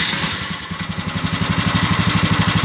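A small single-cylinder engine of a 2023 NEX N12 chugs steadily at idle, its fast regular thumping loud and close, like a lawn mower.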